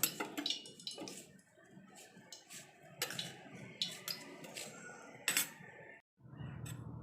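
A spoon stirring chopped onion chutney with red chili powder and salt in a metal bowl, giving close, irregular clinks and scrapes with short pauses, then a brief silence before more mixing.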